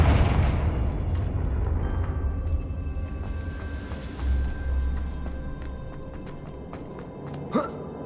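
Fiery blasting spell in the Hogwarts Legacy video game: a loud, low explosive boom opens, then a rumbling burst of fire swells again midway. A sharp pop lands near the end over game music.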